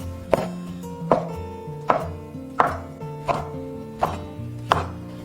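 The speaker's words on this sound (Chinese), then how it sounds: "最后改刀切成正方形" A knife chopping homemade fish tofu into even squares on a board: seven sharp, evenly spaced chops about once every 0.7 seconds, close and clear with no talk.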